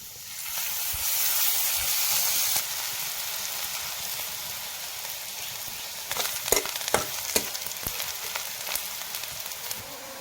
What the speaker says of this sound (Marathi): आता कांदा चांगला परतून घेतला